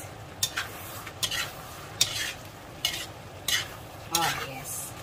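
Vegetables and pork belly for adobong gulay, with broccoli and bok choy, sizzle softly in a pan. About five or six brisk, evenly spaced spatula scrapes and stirs sound close over the steady frying hiss.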